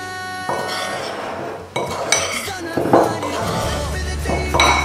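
Ground poppy seed and self-raising gluten-free flour being mixed in a bowl, with repeated clinks and scrapes of a utensil against the dish, fairly close and steady throughout.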